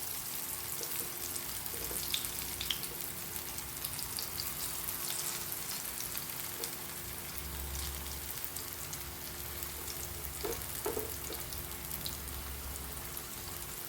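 Brinjal slices fry in a pan of hot oil with a continuous close sizzle, scattered pops and crackles, and a low hum underneath, with nobody speaking.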